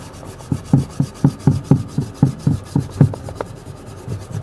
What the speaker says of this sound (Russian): Берем латунную щеточку.